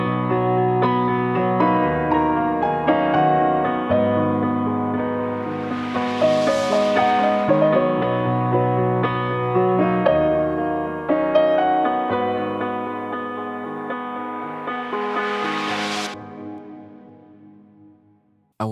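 Layered tracks recorded on a Kawai piano, sent into reverb: sustained, chordal piano lasting throughout, rich and ringing, with swelling brighter passages midway and near the end before a fade to quiet.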